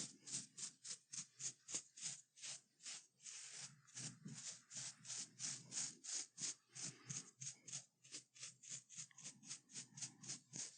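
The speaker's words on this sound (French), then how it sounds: "Un dernier petit coup de brosse pour aligner tout ça." Close, quiet brush strokes through hair at a barber, a rapid regular swishing rhythm of many short strokes repeating steadily, no voices.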